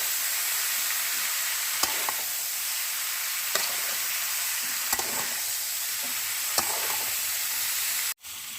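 Dried red chillies fry in hot oil for a village-style elephant apple pickle, giving a loud, steady sizzling hiss with occasional sharp pops and crackles. The sound cuts off abruptly near the end.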